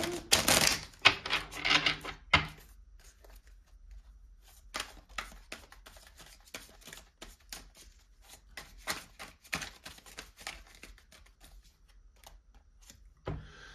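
Divine Love Oracle cards are handled and shuffled, giving a dense burst of rapid riffling near the start followed by scattered soft taps and flicks, close and fairly quiet.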